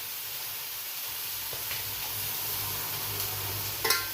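Salsa being stirred into small potatoes in a pot, a soft continuous sizzle and scraping with a few brief utensil scrapes and a sharper clink near the end, no voices.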